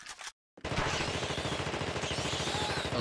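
Rapid, sustained gunfire rattles loud and close from a weapon in The Thing (2002) video game, bursting in abruptly after a brief silence and continuing as a dense automatic volley.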